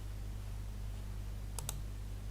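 A pair of quick computer mouse clicks sounds close together near the end, sharp and faint over a steady low hum, with no voices.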